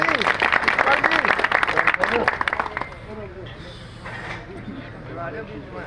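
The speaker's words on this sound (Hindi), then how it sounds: "सभी तालियों से स्वागत कीजिए आप" Crowd at a grain market in Taraori clapping to welcome the MLA, a loud burst of applause in the first seconds that quickly thins out, leaving scattered voices and talk.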